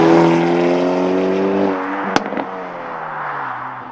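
A 2022 Hyundai Elantra N with an 8-speed dual clutch transmission drives on the road, its engine droning loud and steady then easing off, with a brief sharp knock midway.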